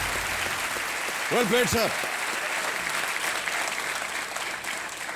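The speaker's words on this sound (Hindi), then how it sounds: "तालियां बजती रहें देवी और सज्जनों।" A studio audience on the Kaun Banega Crorepati game show applauds steadily throughout, with a brief spoken voice partway through.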